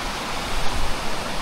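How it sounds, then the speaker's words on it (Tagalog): Flowing stream water rushes at a hidden spot in Pangasinan, a constant broad wash of current, close and even throughout, with no voices. "Yung naririnig po natin, mga lagaslas po ng"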